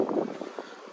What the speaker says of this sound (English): Pardon the wind, it's pretty windy today.